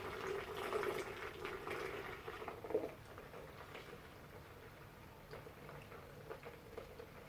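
Sanitizer liquid flushes from a beer keg filter line with a soft, steady gurgling and pattering stream, fuller at first and then thinning to a faint trickle, with no talk.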